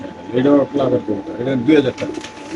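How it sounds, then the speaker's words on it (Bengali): Racer pigeons in cages at a bird market coo close by in repeated throaty, rolling bursts that fill the whole stretch with only brief pauses. "একদম পাইট রেসার কবুতর দেখেন"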